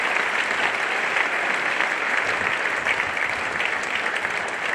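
A crowd at a high school opening ceremony gives a long round of steady applause, a full, even wash of clapping that continues without pause or voices.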